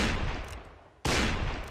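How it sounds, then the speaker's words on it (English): Gunfire in a Mount & Blade line battle using the North & South mod: a loud, dense burst of shots that fades briefly, then a second sharp blast of firing, heavy and booming, with no voices. "Listen to that shot."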